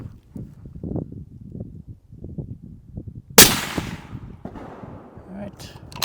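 A single rifle shot fired from a tripod in a low kneeling position cracks loudly and sharply midway, its echo ringing out after a stretch of muffled low handling noise and talk.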